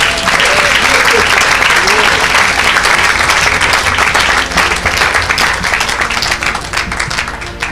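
A church congregation applauding and cheering for the Lord, dense loud sustained clapping from a large crowd that continues throughout and eases slightly toward the end, with voices mixed in.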